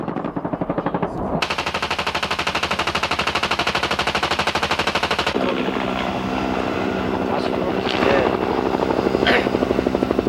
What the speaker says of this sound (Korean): 공격수인 코브라에게 적의 위치를 알려주면 곧이어 코브라가 적을 향해 집중 사격을 가한다